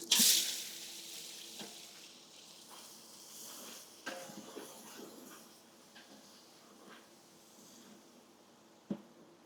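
Onions dropped into hot oil with cinnamon and cloves over a firewood fire sizzle steadily and quietly, with an initial loud hiss at the start, scattered clinks and occasional taps.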